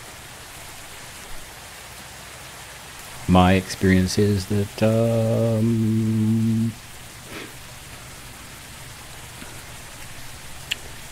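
Rain falls steadily in the airport flight game Airport Madness 3D during a storm at San Francisco, a constant soft hiss throughout. Someone talks briefly over it partway through.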